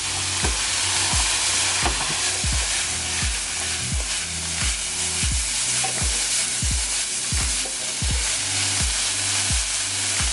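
Vegan meat glazing in teriyaki sauce in a hot pan, a loud, continuous sizzle broken by regular rhythmic scraping and stirring strokes.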